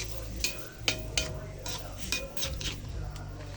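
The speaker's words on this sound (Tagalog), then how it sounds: "haluin lang natin" Hot gravy for fried chicken being stirred in a pan, with repeated sharp scrapes and clinks of a utensil against the metal over a low steady background hum, close and moderately loud.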